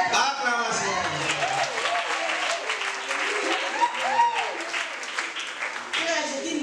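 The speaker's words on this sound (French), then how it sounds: "Acclamation à Jésus-Christ" A church congregation applauds steadily with cheering and voices shouting over the clapping, lively and sustained.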